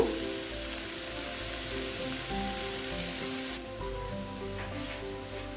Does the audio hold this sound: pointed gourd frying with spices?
yes